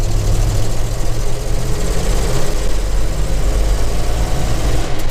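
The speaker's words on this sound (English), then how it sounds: "Real strong, healthy engine." A Ford F100 pickup's engine idles steadily and loudly close by, with a deep, even rumble and no talking.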